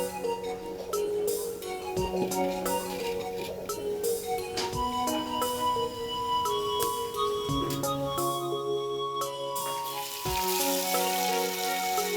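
Mola fish coated in turmeric and salt hit hot oil in a pan, giving a steady, close sizzle and crackle of frying that continues throughout with no talking.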